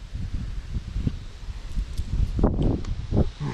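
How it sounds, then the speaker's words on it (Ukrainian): Strong, cold wind gusting outdoors on a stormy day by the water, with a steady broadband roar and irregular rustling surges that swell louder toward the end. "Валить вітер сильний. Ще й холодний"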